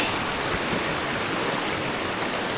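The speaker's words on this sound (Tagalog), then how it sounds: "Makikita nyo yung agos na ng tubig." Water rushes steadily over Ambon Falls during a river trek in Guintubdan, Negros Occidental, a constant close, loud roar of flowing water with no pauses and no voices.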